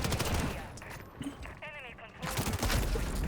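Bursts of rapid gunfire in Modern Warfare crackle through the first half and again at the end, fairly loud, with a short gap in between where a voice is heard.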